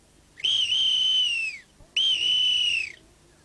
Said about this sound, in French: Bah vous sifflez rudement bien